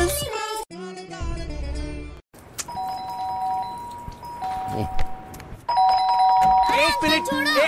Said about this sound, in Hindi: घंटी बजा कर भागो